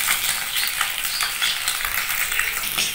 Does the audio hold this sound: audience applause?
no